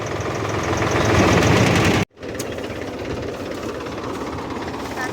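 A farm vehicle's engine runs loud and steady with a heavy low rumble, cuts out abruptly for a moment, then resumes as it sets off on a village farm track.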